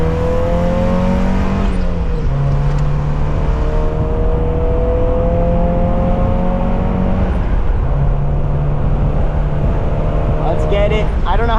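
A Mazda Miata sports car's engine revs hard while driving, rising in pitch through several gear shifts with loud, close, continuous drone and road noise.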